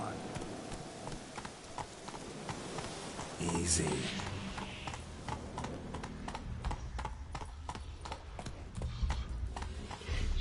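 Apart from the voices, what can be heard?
horse hooves clip-clopping, video game The Witcher 3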